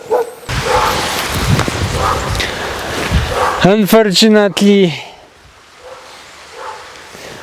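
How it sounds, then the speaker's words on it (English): A stray dog outdoors barks in a quick burst of several loud, harmonic barks in a row, heard after someone talks, with outdoor background noise around. "there's no owner even of this dog, so he just barked there"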